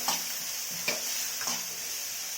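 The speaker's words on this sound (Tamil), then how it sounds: "எண்ணெயிலே கொஞ்சம் நல்லா வதங்கட்டும்" Broad beans and egg sautéing in oil for a Tamil stir-fry, a steady close sizzle with three soft stirring scrapes, no talk.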